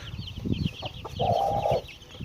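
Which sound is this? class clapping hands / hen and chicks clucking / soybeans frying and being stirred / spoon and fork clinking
hen and chicks clucking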